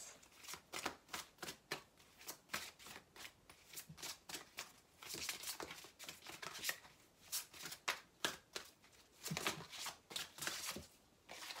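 Tarot cards shuffled and drawn by hand, a steady run of crisp riffling flicks and slaps close up with a few brief pauses, no talking.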